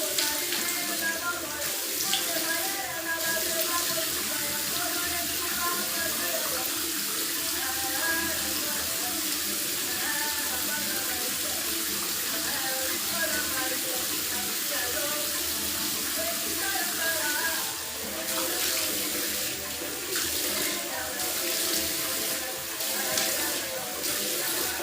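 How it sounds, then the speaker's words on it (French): Steady running tap water pours for rinsing, a loud, continuous, close splashing rush that holds unbroken for the whole stretch. "Je vais rincer."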